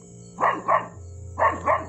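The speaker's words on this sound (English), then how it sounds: "Dog don't like it." A dog barks in two quick double bursts, four sharp barks in all, fairly close over a low steady hum in an indoor room, with no talking.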